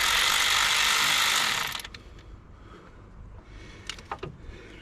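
Ratcheting clicks from a 10mm spanner tightening a bolt during a Range Rover Evoque service, a dense burst for under two seconds followed by a few sparse close clicks.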